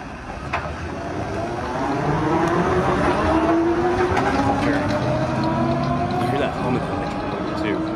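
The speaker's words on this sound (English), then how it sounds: "Want to see a retrofitted electric truck move?" A retrofitted electric truck rolls past with a steady, quiet mechanical whine and tire hum that builds and holds, with faint voices in the background.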